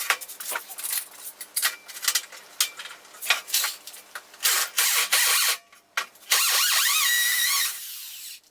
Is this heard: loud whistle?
no